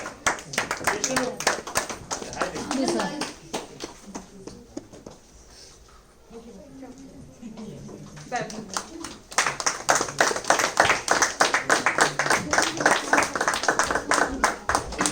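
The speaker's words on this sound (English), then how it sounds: "But I'd like to just call them just to round of applause for them" Audience applause for volunteers at the Queens Volunteer Service award ceremony: dense, sustained clapping from a crowd that fades mid-way, then swells again louder, with voices talking underneath.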